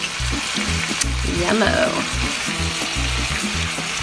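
Grass-fed steak seasoned with salt, pepper and garlic fries in a cast iron skillet, a steady close sizzle running throughout beneath a brief spoken remark and some chopping or tapping.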